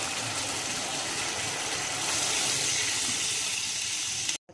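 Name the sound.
water poured into pan while cooking chilli chicken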